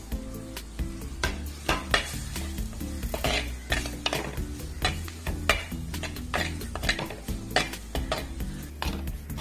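Chopped tomato being stirred and sautéed in a pan for Kerala karimeen mappas, with a steady sizzle, a spoon repeatedly scraping and clinking against the metal pan, and a low kitchen hum underneath, no talking.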